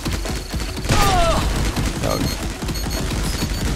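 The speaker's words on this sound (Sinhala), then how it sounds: "හැක්කෝ බෝම්බ ගහනවා බං" Rapid bursts of explosions and gunfire-like blasts in a video game, dense and continuous, loud and close, with a whistling streak and scattered thuds among them.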